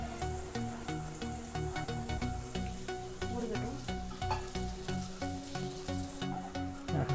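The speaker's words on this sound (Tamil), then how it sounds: "பேன் ஹீட் ஆயிடுச்சு பட்டர் போட்டுக்கணும் டோஸ்ட் பண்ணிடலாம்" Butter melting in a hot pan before paneer goes in for butter paneer masala, a close, steady sizzle with a spattering crackle and repeated scraping strokes from stirring, no voices.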